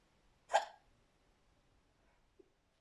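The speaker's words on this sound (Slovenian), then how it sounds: "saj ni nič narobe, če se ti kolca" A single sharp, close hiccup, with a faint second tiny catch about two seconds later in an otherwise quiet room.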